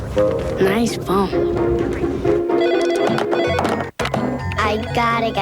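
Telephone ringing inside a TV commercial aired during an NFL football broadcast, with repeated electronic ring bursts mixed with music and voices, loud and close.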